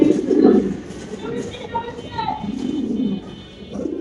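A pair of Spanish pigeons, a white female and a male, cooing close by in low, repeated throaty bursts, with people talking over them.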